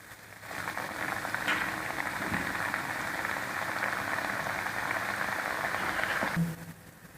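Puris frying in hot oil in a small amount of oil, a steady loud bubbling hiss that starts abruptly, holds for about six seconds, then cuts off sharply.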